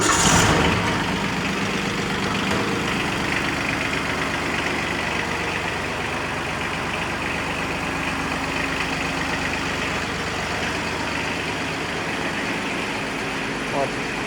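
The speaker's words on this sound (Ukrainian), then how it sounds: "Давайте його заведемо, подивимося, як працює двигун" A Japanese Yanmar KE-4 small tractor engine runs steadily with a rough, rattling mid-low drone, loud and close, holding a constant idle throughout.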